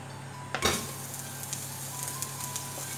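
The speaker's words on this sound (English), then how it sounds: "We put some olive oil. We can saute the onion." Onion sautéing in olive oil in a preheated pot, a steady close sizzle with a sharp burst of frying as the onion hits the hot oil, then a continuous crackling hiss with no talking.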